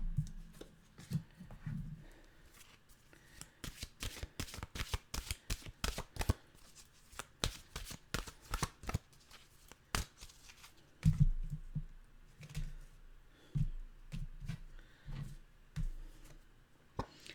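A deck of mantra cards is shuffled by hand in quick bursts of crisp, fluttering riffles and slaps, close and fairly quiet, with short pauses between rounds and no talking.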